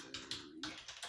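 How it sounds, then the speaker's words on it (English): Loud mechanical keyboard keys clack in quick, sharp strokes, about half a dozen distinct hits close to the mic, with no voices. "Got the loudest keyboard for you guys. It's a mechanical"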